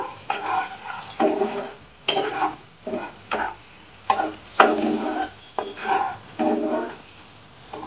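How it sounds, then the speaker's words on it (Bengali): Spices with a pinch of sugar being lightly fried in a pan for a fish malaikari, with a soft sizzle under about a dozen distinct scrapes and clinks of a spatula against the pan, close and rhythmic, no voices. "একটু ভেজে নেব সমস্ত কিছু, একটু আমি খুব হালকাভাবে ভেজে নেব।"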